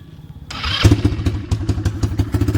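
A quad bike engine starts close by with a sharp crank, then settles into a loud, rhythmic, throbbing idle with no talk over it.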